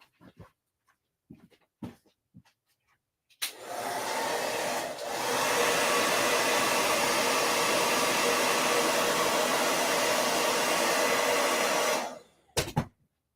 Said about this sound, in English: I used the blow dryer because of the heat.